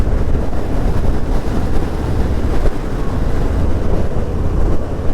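Steady roar of wind buffeting the microphone while riding a Kawasaki Ninja 300 motorcycle, with its exhaust droning underneath at a constant level throughout.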